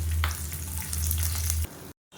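Urad dal, chana dal and dried red chillies frying in hot oil, a steady close sizzle with a low hum that stops abruptly near the end.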